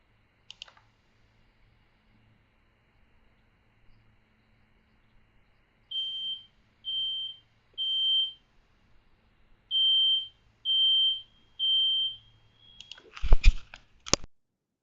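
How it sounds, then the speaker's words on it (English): A high-pitched home smoke alarm sounds its temporal-three pattern: two sets of three steady, piercing beeps, separated by a pause. Several sharp mouse clicks follow afterwards. "It's pretty high. It's got that temporal 3 beep to it, you know, beep, beep, beep."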